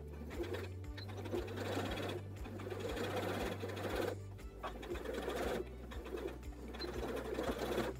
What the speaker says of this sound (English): we're gonna go ahead and sew this edge real quick